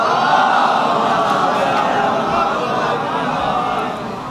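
A congregation at a Bengali majlis loudly chants salawat in unison, a sustained roaring mass of voices that holds steady and then eases slightly at the end.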